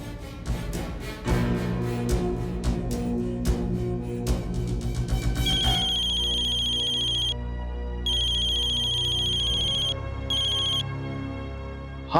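A mobile phone rings on an outgoing call. It starts with a jangly, rhythmic ringtone melody, then a repeating electronic ring tone sounds in steady bursts with short gaps. No one speaks.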